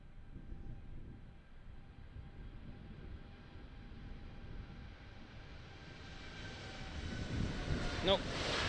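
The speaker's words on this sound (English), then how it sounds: "So let's see if we can properly track this aircraft the way it should be done." An aircraft passes at Amsterdam Airport, a broad rumbling roar with wind buffeting that slowly swells louder toward the end, heard from a distance outdoors.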